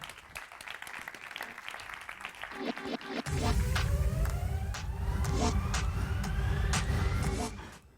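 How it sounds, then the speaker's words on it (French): Audience applause at a conference as a guest is invited on stage, a clapping crowd swelling after a few seconds into loud, sustained clapping over a rising tonal sweep, with a voice heard early on. "qu'on peut applaudir"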